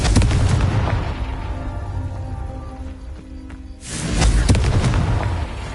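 Confringo fire spells burst in the Hogwarts game as two loud, booming explosions, the first rolling off into a lingering rumble before a second heavy blast hits near the end.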